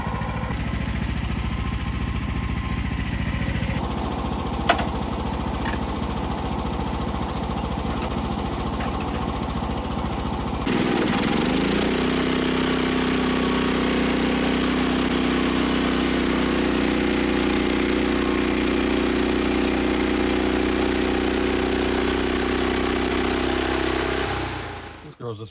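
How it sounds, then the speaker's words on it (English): A heavy sawmill engine drones steadily, its tone shifting partway through as a deeper, strained rumble takes over as the blade bites into a short walnut log. "It's so weird sawing logs this short."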